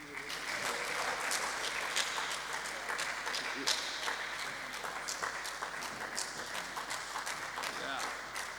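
Sustained, even applause from a conference hall audience welcoming a professor at a national biennial conference, dense clapping holding at a steady level throughout.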